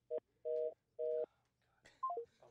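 Touch-tone telephone keypad dialing a number: three long, evenly spaced dual tones followed by a quick cascade of shorter descending beeps, clear and fairly close with faint background hiss and no talking.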